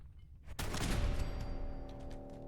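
A laser turret in Fallout 4 opens fire with a sudden loud burst about half a second in, then keeps up a dense, sustained crackle of rapid shots with bright electronic whines layered above.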